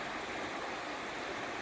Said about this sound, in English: Looking down on the river from up here. Oh my God, look at all the grass being drowned